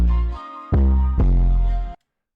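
A clipping 808 bass beat programmed in FL Studio, with velocity pushed up, plays three heavy, distorted booming bass hits, each sustained and buzzing, the last cutting off sharply into silence.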